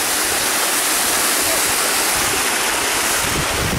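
A waterfall rushes in a loud, continuous roar of falling water, close up and steady throughout, with no clear voices over it.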